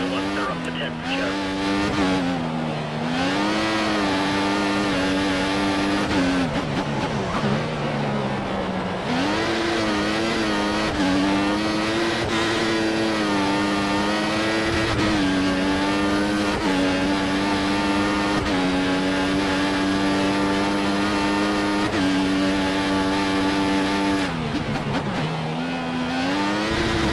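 Racing car engine from the F1 2014 video game on a flying qualifying lap at the Australian Grand Prix, a loud continuous high-pitched whine rising and falling through gear shifts, with tyre squeal at moments.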